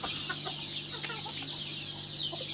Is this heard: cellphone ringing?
no